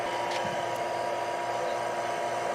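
A vacuum pump runs steadily while evacuating a car's AC system during a compressor replacement, giving off a continuous mechanical whir with no talking over it.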